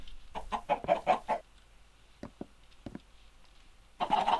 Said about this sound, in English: Have some chickens down here as well.